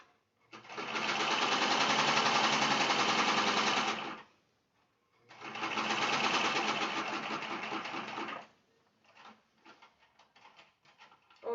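Sewing machine stitching fabric for a mug rug, two sustained runs of rapid mechanical stitching separated by a short pause, then light handling clicks.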